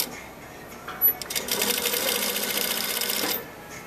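A sewing machine stitches a rib knit band onto a V neckline, running in a steady, rapid mechanical patter for about two seconds after a brief start-up click, then stopping.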